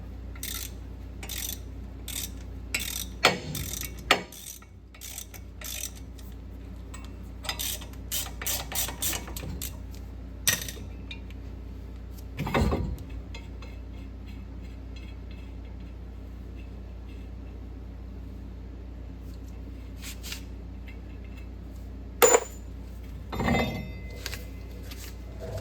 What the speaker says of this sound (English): thread a bolt in and start cranking